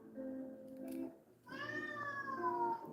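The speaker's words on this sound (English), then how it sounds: "That's my mother's cat." A house cat meows twice close by, a short first call and then a longer, drawn-out meow that slides downward in pitch.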